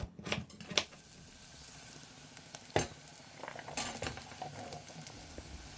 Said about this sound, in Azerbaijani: Ətlə soğan qovrulana qədər 2 ədəd kartofu kub-kub doğrayıram.